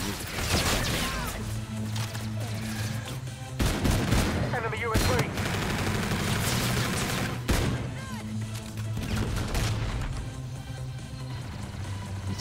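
Rapid DMR rifle fire in a video game, loud shots repeating through a busy mix with bursts of other weapons and faint voices underneath.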